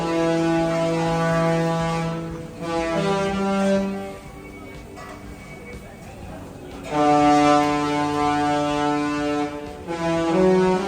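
A cruise ship's deep horn sounds a theme tune at sea, loud sustained tones in a melodic phrase, pausing briefly before the tune resumes.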